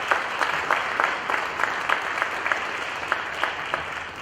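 An audience at an athletic hall of fame ceremony applauds, steady crowd clapping with distinct sharp claps standing out, fairly loud and tapering slightly toward the end.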